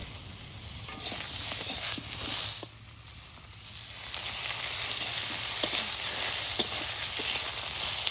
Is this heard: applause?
no